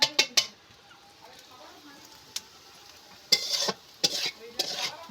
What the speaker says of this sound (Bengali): এইভাবে ভালো করে পেঁয়াজটা ভেজে নেব মশলা দিয়ে। এবার নেড়ে চেড়ে আমি ভালো করে কষি নেব।